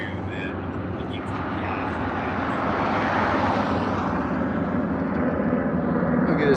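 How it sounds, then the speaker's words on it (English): A helicopter flying overhead at sunset in Tucson gives a loud, rising engine and rotor rumble that swells as it passes close above, with voices talking underneath. "the helicopter going into the sunset"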